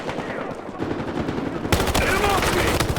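Automatic weapon fire crackles through a Battlefield match, steady bursts growing louder and denser partway through, with a player's voice faintly over the shooting.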